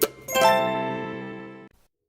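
A bright notification bell sounds once after a short plop, ringing clearly and fading over about a second and a half before a faint tail.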